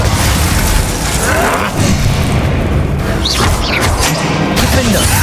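The Bombarda blasting spell in Hogwarts Legacy goes off as a loud, continuous rumbling boom with crashing debris, dense and up close throughout, with no pause.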